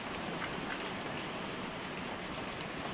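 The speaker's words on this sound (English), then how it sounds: "Oh, it's raining." Rain falls steadily in the horror video game The Glass Staircase, a soft, even hiss of drops with no other sounds over it.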